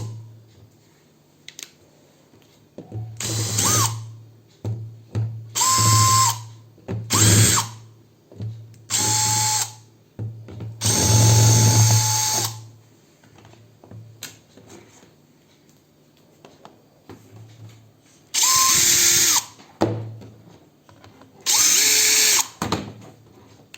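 An Ibell cordless drill fitted with an Amazon Basics bit whirs in a string of separate bursts, about seven short runs of high-pitched motor whine with quiet pauses between, loud and close, no voices.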